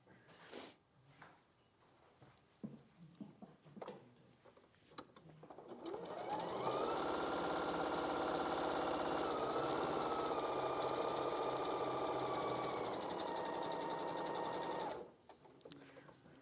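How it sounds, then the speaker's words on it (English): A sewing machine stitches straight across a 1/4 inch seam in fabric, with one continuous, fast mechanical whirr lasting about nine seconds after quiet handling of the material, then stopping abruptly. "stitch straight across at my 1/4 inch seam allowance"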